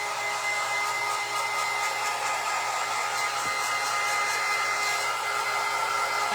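A hair dryer blows steadily and loudly without a break, drying paint on a Dollar Tree cheeseboard craft makeover; no one speaks over the constant whoosh.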